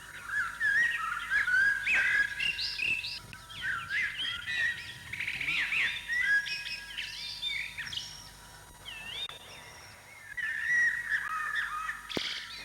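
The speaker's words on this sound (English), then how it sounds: "its mellow fluting is one of the most beautiful bird songs, rated by some people even higher than that of the nightingale" A blackbird sings a mellow, fluting song in near-continuous phrases, close and fairly loud, with other chirps and calls mixed in and no talking.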